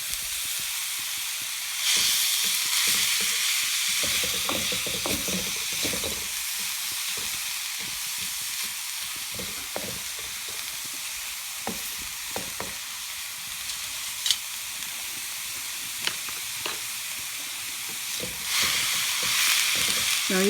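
Onions sautéing in a wok for spring rolls give a steady, close broadband sizzle, punctuated by frequent clicks and scrapes of stirring, with louder bursts of hissing near the start and end.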